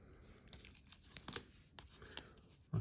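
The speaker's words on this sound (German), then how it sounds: "Ist noch mal eine Art Folie eingewickelt." Thin plastic film wrapping on an Apple Watch Ultra titanium band is pulled off and torn. Soft, quiet crinkling and tearing rustles come close by, with a heavier thump at the very end.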